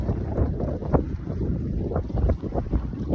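A sailboat moving under wind in spring, with steady broadband wind and water rush filling the whole stretch and a few louder gusts buffeting the microphone close by; no one speaks.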